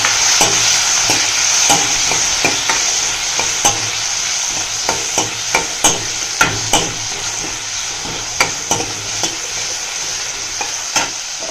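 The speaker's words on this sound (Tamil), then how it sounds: "வெங்காயத்தை சேர்த்து வதக்கி வச்சுக்கலாம்" Chopped onions sizzling in a pan, with a steady fry hiss and a regular run of sharp spatula scrapes and taps that comes closer together toward the end, heard close up and alone.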